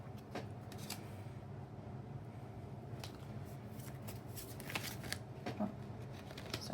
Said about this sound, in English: I'm going to shuffle some more to see what is your soul or your life purpose in this lifetime.